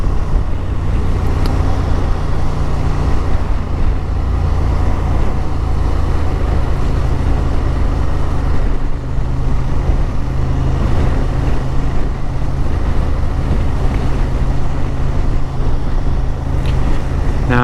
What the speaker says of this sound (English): Good bit of engine braking as well.